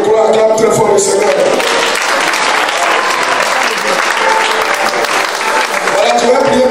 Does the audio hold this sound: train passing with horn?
no